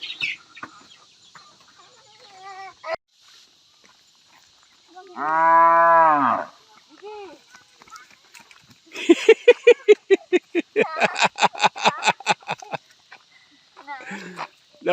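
A cow lets out one loud, close moo near the middle, at a mountain farmhouse, followed by a rapid run of clucking fowl calls, with scattered quiet sounds and brief talk around it.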